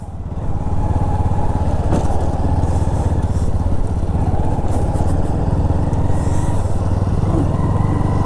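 TVS Victor motorcycle engine idling in a rural village, a steady close puttering chug with even rapid firing beats running throughout, loud and without talk.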